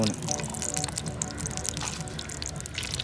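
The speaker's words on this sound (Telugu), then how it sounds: "నూనె పోసుకోవాలి." About 200 ml of cooking oil pours into a pan for a goat leg curry, making a continuous liquid trickle and splash at close range, with a voice faintly present under it.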